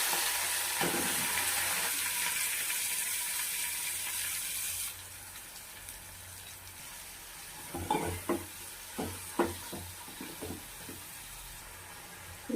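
Cumin, chopped onion and green chillies frying in plenty of hot oil for an egg curry: a bright, steady sizzle for several seconds that then drops away, followed by a run of spoon stirs and clatters against the pan.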